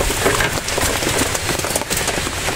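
Rain begins falling at a busy bridge fishing spot, a dense, continuous patter that hisses steadily and fairly loud, with no voices over it.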